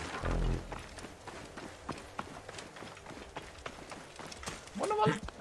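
Horse hooves in the game Assassin's Creed Origins, a light run of thudding steps under other game noise, with a voice briefly heard near the end.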